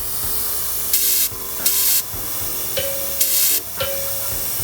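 A DeVilbiss GPG 1.8 spray gun lays PPG base coat on a custom lowrider, four sharp loud hissing bursts about a second each with short pauses between, over a steady background hum.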